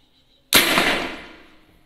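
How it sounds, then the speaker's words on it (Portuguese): A PCP Elite air rifle fires a lead pellet: a single sharp, loud crack with a quick decaying tail, against near silence. "E vamos fazer um disparo aqui."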